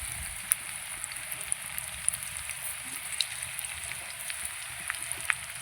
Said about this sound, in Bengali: বেবিকর্নগুলো এবার ভেজে নেব।